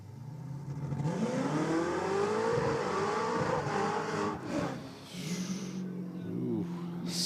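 A red Tirana car launches hard at a drag race, its engine revving up loudly with squealing wheel spin before backing off and picking up again, under an announcer's commentary.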